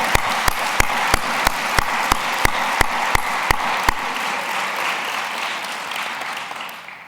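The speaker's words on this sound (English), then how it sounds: "perhaps we can give them a wonderful round of applause." An audience gives a round of applause at a world public health congress. Broad, continuous clapping carries a loud, evenly timed single clap for about four seconds, then the applause gradually fades out.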